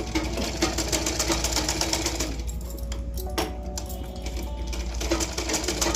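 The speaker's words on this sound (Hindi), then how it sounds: "सावधानी पूर्वक आप सिलाई चला दीजिए चारों तरफ से" A sewing machine runs stitches around a cross-cut blouse, a continuous, close, rattling whir that keeps a steady mechanical rhythm for the whole stretch.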